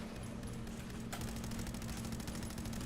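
Sustained automatic gunfire from a weapon in Fallout 4: a rapid, evenly spaced stream of shots that grows denser and louder partway through and keeps going steadily to the end.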